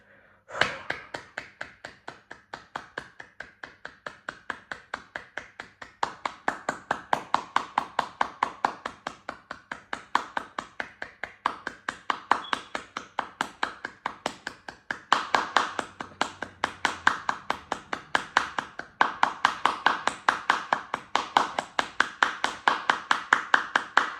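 Hands clap in a steady rhythm during a yoga breathwork exercise, a long run of crisp, close claps at a regular pace that keeps going throughout and grows slightly louder in the later part.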